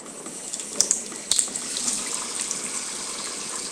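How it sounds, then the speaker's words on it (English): Water runs steadily from a sink tap while makeup brushes are rinsed under it, a continuous close splashing hiss with a few small clicks and knocks near the start. "rinse the brushes off in the sink"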